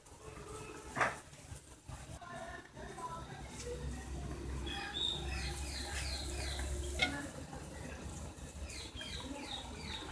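Frozen mutton koftas go into a hot pan of spiced oil and sizzle with a soft, steady hiss and occasional crackles, fairly quiet beneath a voice talking throughout.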